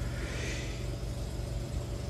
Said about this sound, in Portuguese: à medida que o motor vai disparando, acelerando, levantando o giro